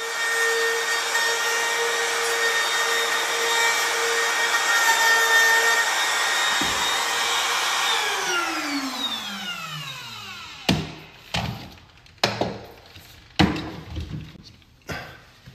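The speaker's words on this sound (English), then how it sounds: "So set my router to 1/8 on either side. And then set jig and run." A router set in a jig cuts a floating wood shelf, giving a loud, steady whine that winds down after about eight seconds, followed by several sharp knocks and thumps as the work is handled.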